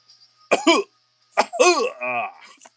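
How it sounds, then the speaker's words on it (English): Two bursts of harsh coughing, each a quick double hack, separated by a short pause, close and fairly loud with rasping throat sounds. "Coughing."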